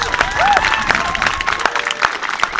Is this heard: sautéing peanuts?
no